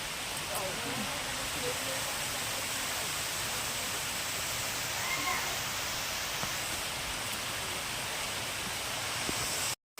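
Maredumilli waterfall roars as a constant broadband rush of falling water, steady and fairly distant, with faint voices beneath it.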